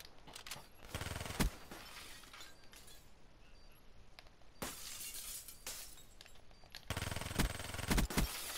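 Rapid bursts of gunfire in Call of Duty Black Ops 3 crack out in three loud clusters with quieter stretches between them, and no voices are heard.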